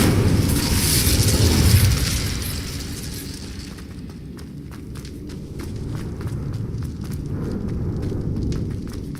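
An Incendio fire spell cast in Hogwarts Legacy gives a loud whooshing burst of flame at the start that fades out, followed by quieter scattered crackles and footstep-like taps.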